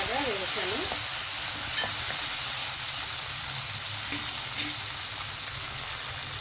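Spices temper in hot oil with coriander and curry leaves, giving a loud, steady sizzle and frying crackle with occasional stirring scrapes throughout.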